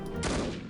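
A burst of AK rifle fire in the shooter No One Lives Forever, a short loud rattle of rapid shots that peaks and then trails off.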